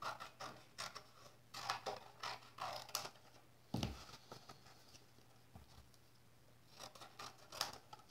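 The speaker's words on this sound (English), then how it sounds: "So I like to kind of cut them up, get as much out of my cardstock as I can." Scissors cutting cardstock for a card project, a quick series of crisp close snips and paper rustles, with a couple of louder thumps midway.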